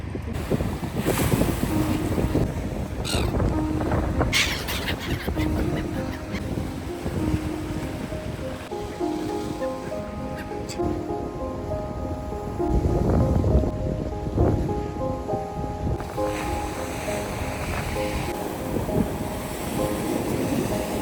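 Wind and waves along the Odesa seashore, with strong continuous wind buffeting the microphone over a steady wash of surf for about twenty seconds.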